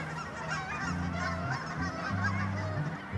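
Many geese honk together in a dense, overlapping chorus, fairly distant and steady throughout, with no talking.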